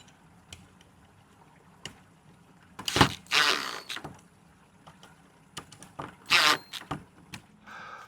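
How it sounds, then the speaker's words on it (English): Screws being tightened on the mounting bracket of a smart AI bird feeder, heard as short scraping and ratcheting bursts around three and six seconds, with faint clicks between and no talk. "Once the bracket's on, I like to tighten up the screws."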